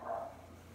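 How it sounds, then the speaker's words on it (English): A single short dog bark from outside, faint and distant, over a quiet indoor background. "Excuse the dog, she's outside right now."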